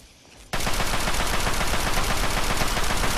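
Rapid automatic assault rifle fire from the video game Fallout 3 kicks in abruptly after a brief quiet moment, then rattles on loud and continuous as a dense, sustained burst with no pauses.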